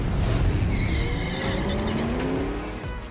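Infiniti QX50 SUV on a test drive, loud steady engine and tire roar close up with rising whine tones and some squeal, continuous throughout without talk.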